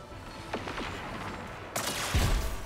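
Gunfire in the Destiny video game, a few faint shots early on, then a sharp, louder burst of shooting and impacts that starts suddenly and continues to the end.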